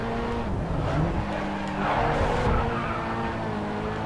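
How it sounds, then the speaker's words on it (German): A race car in Grid Autosport drifts through a corner, its engine roaring steadily while tires squeal and skid throughout, loud and close with a brief swell midway. "Oh, schön reingedriftet."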